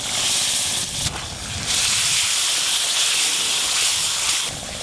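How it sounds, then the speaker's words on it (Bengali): Spices with ginger and garlic frying in a pan for a fish curry, a loud, steady hissing sizzle that dips briefly twice and then surges again. "মশলাগুলো খুব ভালো করে কষে নিতে হবে।"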